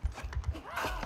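Horse hooves clip-clopping in a video game, a few quick thuds in uneven rhythm, brief and moderately close with faint game sounds around them.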